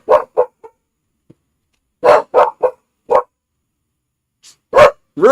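Dog barking at a live baseball game between the New York Yankees and Cincinnati Reds, close and loud, in short bursts of two to four sharp barks separated by pauses.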